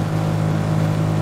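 A G-Wagon engine in Fortnite idles and runs with a steady, droning hum, close and fairly loud, unbroken for the short moment with no talk over it.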